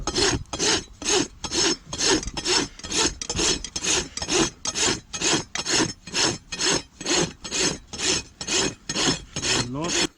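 A rasp files a horse's hoof that had never been trimmed, working the front of the hoof in steady, even back-and-forth strokes, about two per second, loud and close with no voices.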